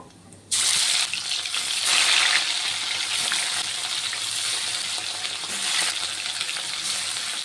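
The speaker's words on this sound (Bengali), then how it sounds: "তেলটি গরম হয়ে গেছে, দিয়ে দেব একটু কালো জিরে ফোড়ন। এখন একে একে মাছটিকে দিয়ে দেব।" Bhetki fish pieces drop one by one into hot mustard oil tempered with kalo jeere, setting off a sudden loud sizzle that crackles steadily on, close and unbroken.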